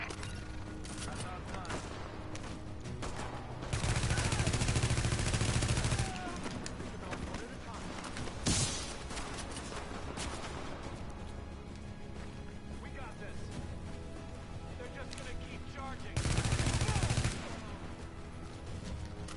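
Gunfire in the video game The Division, with repeated rapid bursts of automatic fire, two loud sustained volleys and scattered shots under ongoing game voices.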